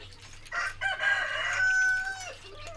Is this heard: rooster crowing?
yes